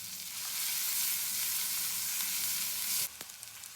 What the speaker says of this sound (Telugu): ఇప్పుడు ఇంకొంచెం వెన్న తీసుకొని ఇందులో తరుక్కున్న ఉల్లిపాయలు పచ్చిమిరపకాయలు వేసి వేపుకోవాలి